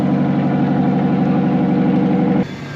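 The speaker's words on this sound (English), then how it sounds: "the noise you hear here, the shrimp boat just came in" A shrimp boat's engine idles at the dock with a steady low, throbbing drone close by, then drops off abruptly near the end.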